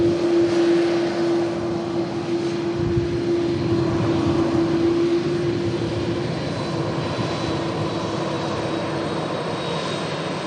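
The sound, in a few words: Etihad Boeing 777 airliner engines on runway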